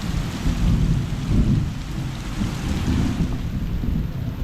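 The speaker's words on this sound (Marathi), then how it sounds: "पाऊस जोरदार सुरुवात झाली आहे पावसात गडगडता" Heavy monsoon rain in the Konkan pours down steadily while low thunder rumbles and rolls underneath, loud and close, with no voices.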